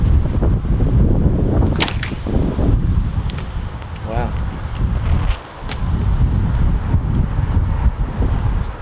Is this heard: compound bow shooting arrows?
yes